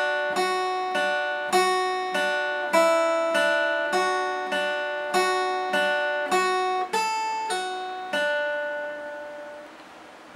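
A guitar plays a riff slowly, single clean plucked notes at an even pace, each ringing and decaying before the next, close and alone without talk.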